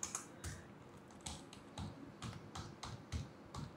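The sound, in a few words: typing a name on a computer keyboard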